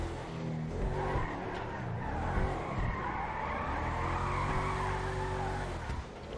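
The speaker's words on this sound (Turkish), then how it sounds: "Şimdi arabamızı biraz sürüşünü yapalım ve arabamız kaç basıyor da bakacağım arkadaşlar." A BMW X5 SUV driven in GTA 5 Online, its engine droning steadily while tires squeal and skid almost throughout, with no voices.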